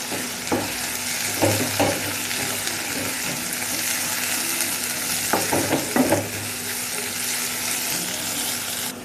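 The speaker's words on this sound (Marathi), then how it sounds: "कांदा आणि टॅमॅटो आपलं चांगलं फ्राय झाला आहे" Chopped onion and tomato fry in a pan with a constant bright sizzle, broken by a few scraping stirs close by.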